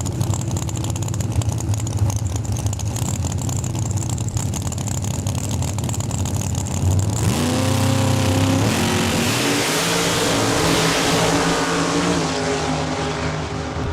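A 1971 Cutlass and a 1969 Camaro drag racing at Saskatchewan International Raceway, with loud sustained engine roar that swells as the cars launch and scream down the strip, continuous and close throughout.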